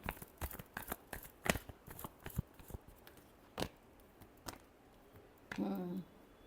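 Tarot cards being shuffled by hand in quick bursts of soft riffling and snapping, close and fairly quiet, with a longer riffle near the end.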